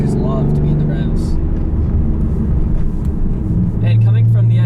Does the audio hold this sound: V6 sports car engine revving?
yes